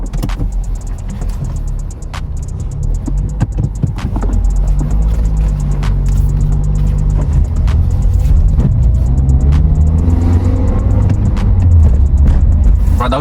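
A Toyota car starting off and driving away, its engine rumble rising and holding steady with a faint whine, loud and close from inside the cabin, with occasional clicks and rattles early on.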